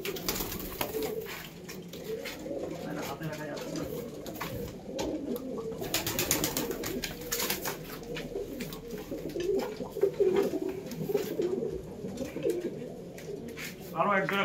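Pigeons coo repeatedly from a breeding pair, a red-vein male and a flower-vein female, kept at home, with soft rolling calls continuing throughout under some background talk.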